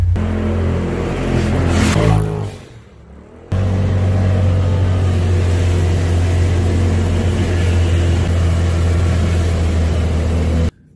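A car engine idling steadily while it warms up, a loud, constant low drone with one brief dip partway through before it settles back to the same even hum.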